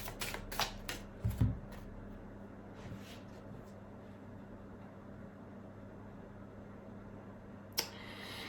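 A deck of oracle cards is shuffled up close, giving a quick run of crisp riffling flicks at the start, then near quiet with one more short rustle near the end.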